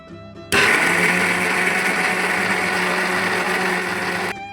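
A kitchen mixer grinds sambar powder with water into a paste, switching on abruptly into a loud, steady whirring whine that runs evenly and then cuts off near the end.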